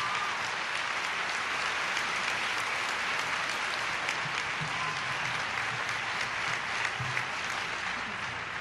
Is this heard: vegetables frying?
no